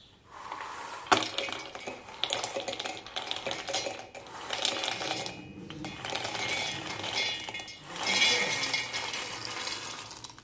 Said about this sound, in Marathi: हे आता थंड झाले की आपण एका मिक्सरच्या भांड्यामध्ये काढून घेऊयात